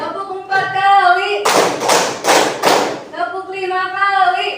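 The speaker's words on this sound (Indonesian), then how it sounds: "Tepuk 1 kali, tepuk 2 kali, tepuk 3 kali, tepuk 4 kali" Children clap hands together in four sharp counted bursts, one to four claps in sequence, close and loud, with singing or chanting voices before and after the claps.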